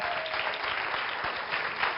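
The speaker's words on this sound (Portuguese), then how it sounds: "Um forte aplauso para o Dr. Hugo Rodrigues." Applause rises from a studio audience welcoming a pediatrician, a dense, even patter of many hands that holds steady without a break, with no voices on top.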